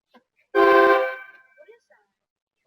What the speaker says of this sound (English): What is that? Train horn.